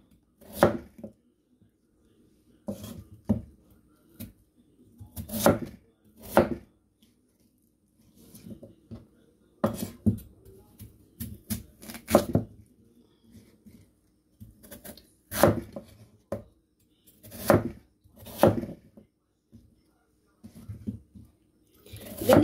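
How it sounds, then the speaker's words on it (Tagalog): Knife chopping potato into cubes on a cutting board for chicken adobo, a series of crisp, close knocks coming in irregular bursts with short pauses, with no talking. "So, hiwain po natin ito ng cubes."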